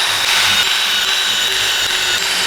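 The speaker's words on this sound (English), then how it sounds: "drill a couple holes in the case" A power drill runs continuously at close range, boring holes into a project case for a CO2 laser tube control unit, a steady loud whine with no pauses.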